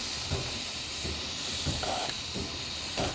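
Steam hisses steadily from a pressure cooker release valve while making nomato sauce, a loud continuous broadband hiss with a few faint knocks beneath.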